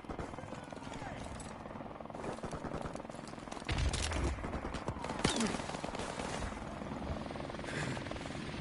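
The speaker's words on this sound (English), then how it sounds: "Enemy helicopter inbound." Enemy helicopter flying overhead in the Call of Duty remastered video game, a steady rotor drone running throughout amid a busy mix of gunfire and battle noise, with a louder swell midway.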